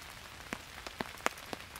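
Heavy rain drums on a small poncho stretched overhead at night in a forest, a steady hiss broken by several sharp, close drop impacts in an irregular rhythm.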